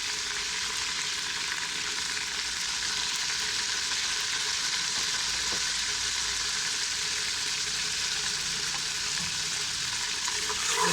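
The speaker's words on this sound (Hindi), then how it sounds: "भून रहा है। जैसे देखे कि मसाले ने रंग छोड़ दिया है, थोड़ा सा भुन गए हैं मसाले" Ground spices, including red chili and turmeric, sizzle steadily in hot oil for a restaurant-style chicken gravy, an even, close hiss with only occasional light stirring.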